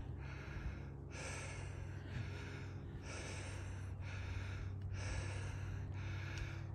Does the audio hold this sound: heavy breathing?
yes